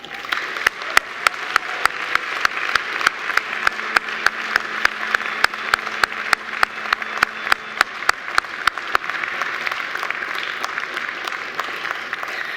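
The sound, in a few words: graduates applauding their family and friends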